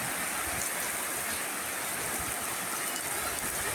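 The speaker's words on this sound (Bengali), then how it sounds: "প্রচন্ড প্রচন্ড বাতাস আর বৃষ্টি" Strong wind and heavy rain make a dense, steady hissing roar that holds constant, with no pauses.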